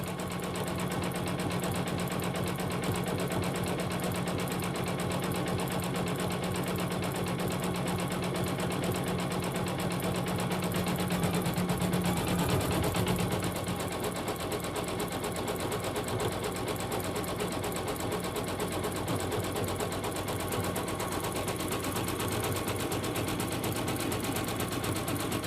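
A single-needle embroidery sewing machine stitches a design onto a child's sweatshirt. It chatters quickly and steadily up close for the whole stretch, with a slight shift partway through and no speech.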